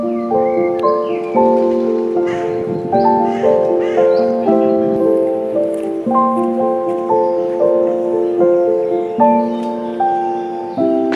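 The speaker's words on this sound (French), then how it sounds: "quand je veux filmer des oiseaux, ils s'envolent à chaque fois" Crows caw repeatedly outdoors, harsh calls coming in steady overlapping bursts at close to moderate range, loud and continuous with no talking.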